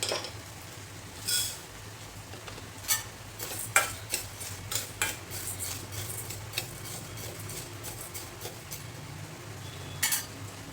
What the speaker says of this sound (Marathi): आता ही उडदाची डाळ पण भाजून झाली